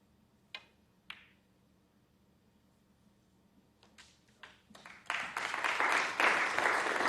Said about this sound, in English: I'm glad that Mark Williams earned some applause there